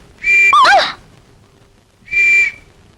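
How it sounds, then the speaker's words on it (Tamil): A comic whistle sound supposedly coming from the stomach of a man who swallowed a whistle: two loud, sustained shrill whistle blasts, the first wavering and warbling, separated by a short pause, with no talking. "வயித்துல இருந்து விசில் சத்தம் வருது"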